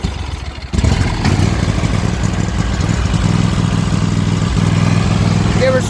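A Toro Timecutter zero-turn mower's rusted, previously seized engine, now repaired, catches after a brief quiet start and settles into a loud, steady, slightly clattering idle that runs on without a break.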